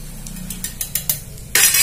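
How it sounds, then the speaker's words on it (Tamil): A beater whisks curd mixed with rice flour in a bowl, making quick light ticking strokes that end in a louder, rougher burst of mixing noise. It sounds close, with no voices. "மறுபடியும் பீட்டரை வச்சு ஒரு தடவை கலக்கி விட்டுக்கோங்க"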